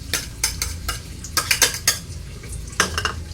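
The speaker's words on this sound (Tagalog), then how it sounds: "So lulutuin lang natin yung sibuyas saka yung garlic guys." Onion and garlic being stirred in a pan over a rural home stove, with repeated sharp clinks and scrapes of a metal spoon against the pan over a soft sizzle, fairly close.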